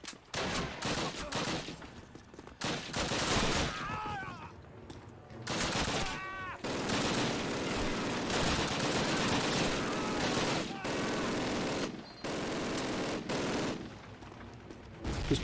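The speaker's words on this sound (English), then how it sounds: "This machine gunner sucks to kill." Rapid machine gun fire and other gunshots in a World War II video game set among the ruins of Stalingrad, dense and loud bursts running almost continuously with only brief breaks, with faint game voices mixed in.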